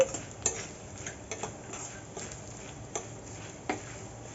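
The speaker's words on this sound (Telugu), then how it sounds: "వీటిని కూడా కొద్దిగా క్రిస్పీగా అయ్యే వరకు వేయించుకోవాలి" Roasted gram dal being dry-roasted in a pan, heard as faint scattered ticks and light scraping clicks of a spoon against metal over a low hiss, close and quiet, with no talking.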